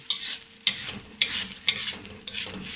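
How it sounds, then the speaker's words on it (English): Curry paste and fish cooking in a wok for a Kerala fish stew, bubbling and sizzling steadily, with a sharp stirring scrape roughly every half second. "Okay, now it's boiling"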